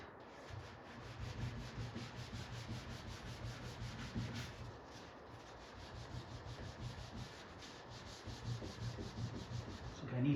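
A fingernail scrapes residue off a Jurassic Park 3 arcade cabinet, a faint, continuous rubbing rasp with quick repeated strokes in a steady rhythm, close and without talk.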